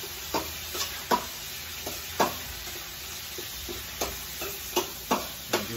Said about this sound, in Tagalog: prito lang natin itong mga ito.